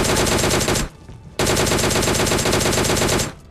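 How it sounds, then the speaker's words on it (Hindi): Loud automatic gunfire from the video game PUBG Mobile Lite rattles in two long, dense bursts separated by a short pause, close and overpowering with no voices. "पता नहीं क्यों गोली चलाते, शायद मुझे ही बुलाने के लिए"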